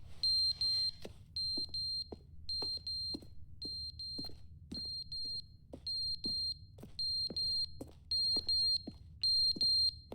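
A fire alarm in Stanley Parable: Ultra Deluxe beeps in a steady, regular series of short, high-pitched chirps, paired in quick doubles and repeating about every half second, clear and fairly close, with no talking.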